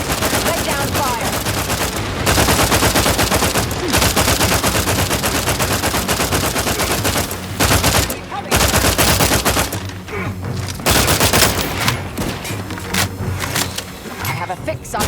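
Dense, loud bursts of automatic gunfire and rapid shots in the video game The Outer Worlds 2, nearly continuous with brief pauses, layered over game music and effects, with some voice present.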